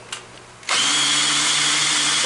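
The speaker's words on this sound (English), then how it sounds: "so I can drill clearance holes for the screws in this side" A power drill bores clearance holes for screws through a Lectric e-bike headlight bracket part, starting abruptly after a faint lead-in and running as a loud, steady whine close by.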